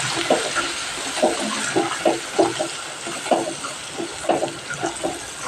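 Spices and chutney hitting hot oil with garlic while cooking urad dal, a close bubbling sizzle broken by repeated wet pulses as the mixture is stirred, no voices.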